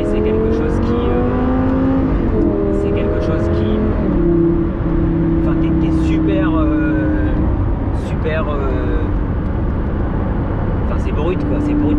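Lamborghini Gallardo Superleggera LP-560 engine heard from inside while driving, loud and close, revving up and down through gear changes in rising and falling sweeps, with someone talking over it.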